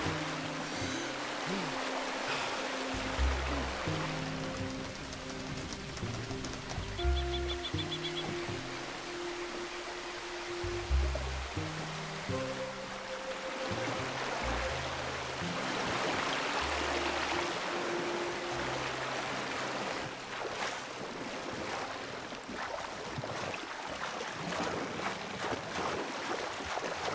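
Flowing creek water near Butcher Creek in the Red Dead Redemption 2 video game, a continuous broadband rush heard steadily throughout, mixed with low tonal game music.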